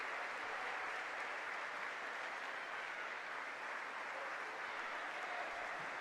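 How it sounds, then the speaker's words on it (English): Sustained applause from the crowd at the National Football Stadium during a junior cup final, rising for an injured player; a steady, dense wash of clapping throughout with no talk over it. "And a big round of applause by every single person at the National Football Stadium here this afternoon."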